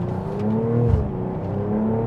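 2026 BMW M440i xDrive in Sport Plus, engine note rising under partial throttle with a quick gear shift, a steady close cabin drone and no voices.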